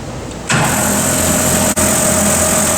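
A band saw cutting 5/8-inch stock in its low speed range at just under 175 feet per minute: a sudden onset of steady, loud mechanical whir and hiss that continues evenly close by, briefly dipping once.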